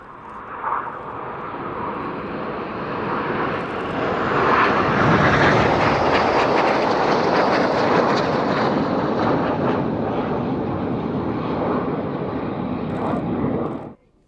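Panavia Tornado jet making a loud pass at the Yeovilton Air Day display, a broad roaring engine rumble that swells and holds steady for about thirteen seconds before cutting off abruptly.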